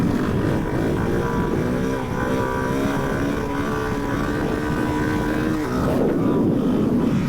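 A Suzuki DR-Z4S dual-sport motorcycle engine pulls hard through a third-gear wheelie, a steady close droning roar with rising harmonics and heavy wind rush, the pitch dipping briefly near the end.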